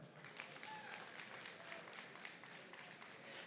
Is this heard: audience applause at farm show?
yes